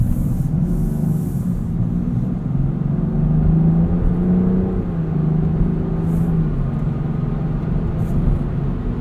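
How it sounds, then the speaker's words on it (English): A 2024 Land Rover Defender 130 Outbound mild hybrid, heard from inside the cabin as its engine revs climb smoothly after a seamless stop-start restart, a low steady rumble and whir with no voices. "The revs just rise up from zero."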